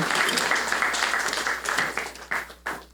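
Church congregation applauding for Juan at a service, a dense spread of clapping that swells and fades in uneven bursts, moderately loud and fairly close, with no voices over it.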